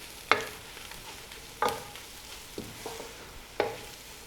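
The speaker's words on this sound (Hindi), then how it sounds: "30 सेकंड के लिए हमने वेजिटेबल्स को यहाँ पर भून लेना है।" Egg, capsicum and vegetables stir-fried in a pan, a low background sizzle broken by a few sharp scraping stirs of a spatula at irregular intervals, close by, with no talking.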